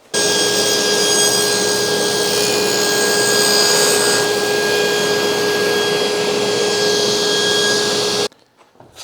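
A power saw cuts wood miters for a box, giving a loud steady whining cut with a constant tone that runs for about eight seconds and then stops abruptly, close by with no talking.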